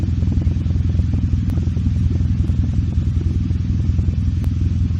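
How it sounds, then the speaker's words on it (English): An RS motorcycle engine idles inside a closed garage, a steady, loud, close rumble with a continuous low throb and faint clattering, no voices. "Engine is on."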